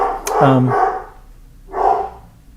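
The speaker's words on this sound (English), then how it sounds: "mailman just came, so my dog is going apeshit." A dog barks loudly and close by, with a few sharp barks in a cluster, a short pause, then another bark, all triggered by the mailman arriving at the house.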